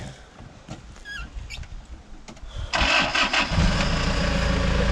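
An off-road vehicle engine on a muddy trail cranks roughly, then catches and roars to life, settling into a loud, steady idle close by after a few seconds of strained turning over.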